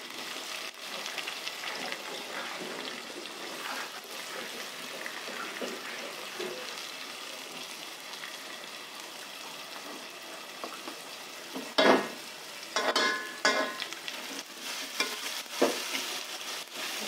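Onions frying in a pan with ginger-garlic paste for dalcha and jeera rice: a steady soft sizzle throughout, with a few louder stirring scrapes and clinks near the end, no talk.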